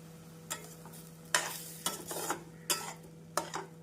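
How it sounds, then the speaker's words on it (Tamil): Semiya vermicelli kesari being stirred with sugar in a pan: quiet, rhythmic scraping strokes of a spoon over a faint sizzle and a low steady hum. "நாம் ஜீனி சேர்த்து நன்றாக கிளற வேண்டும்"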